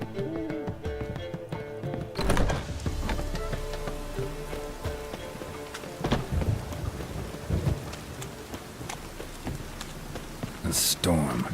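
Storm in The Witcher 3: steady heavy rain patters on surfaces, with rolls of thunder and sharp cracks near the start and the end, a voice speaking briefly over the downpour.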